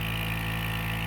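A motorcycle engine idles steadily with a constant low mechanical hum and even rumble, close up and unbroken, with no voices over it.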